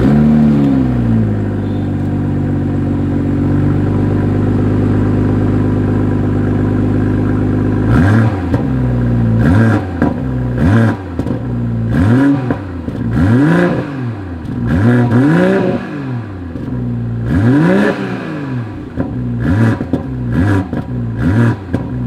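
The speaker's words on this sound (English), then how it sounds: "As always, here is that exhaust clip." A 2021 BMW M440i coupe's exhaust in sport driving mode: a steady idle drone for several seconds, then a string of sharp throttle blips and revs that climb and fall repeatedly, loud and close.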